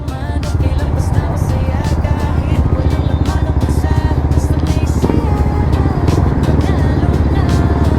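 A motorcycle engine idling steadily while warming up, a loud, close, even low rumble of rapid firing pulses running throughout with no talk.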